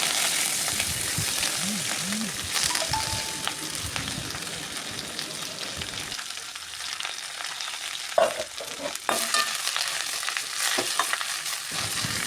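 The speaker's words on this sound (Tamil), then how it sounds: "அதே ஆயிலில் கருவேப்பிலை சேர்த்துக்குவோம்" Curry leaves hit hot oil in a pan while making curry-leaf rice, crackling and sizzling loudly at first with stirring scrapes, then the hiss settles into quieter spitting and pops near the microphone.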